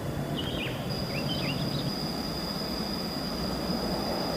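An Indonesian passenger train passes as a loud, steady rumble that runs without a break, with a sustained high whine and short squeals from the wheels on the rails.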